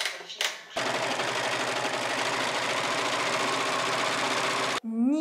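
An overlock serger sews a rolled hem on fabric for a bohemian maternity dress, running in a loud, continuous, rapid mechanical whir for about four seconds before stopping abruptly.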